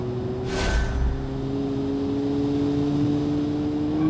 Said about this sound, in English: You can hear the turbocharger too.